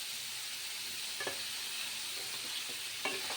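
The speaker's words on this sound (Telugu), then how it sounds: "సో కట్ చేసుకొని ఆయిల్లో ఫ్రై చేసుకోవాలి." Paneer cubes fry in hot oil for a paneer biryani, giving a steady soft sizzle with a few brief stirring knocks, close and moderate in level, with no talking.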